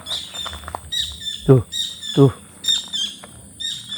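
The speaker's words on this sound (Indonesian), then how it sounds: "Suara burung." Birds chirp in gardens beside a narrow village footpath, repeated high tweets in short bursts, with someone briefly speaking and a couple of low thuds nearby.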